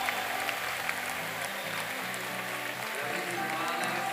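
Audience applause for the MCE 2020 boulder winner at a climbing competition, a steady wash of clapping with a low background voice and faint music underneath.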